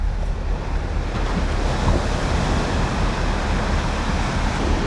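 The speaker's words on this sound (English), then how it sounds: "These are the waves from that boat." Waves from a passing boat's wake wash against the Atlantic shore, a loud, continuous rushing surf mixed with wind buffeting the microphone, with no voices.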